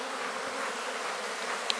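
Honey bees buzz in a dense, continuous drone around a hive after being smoked, close and steady with no voices.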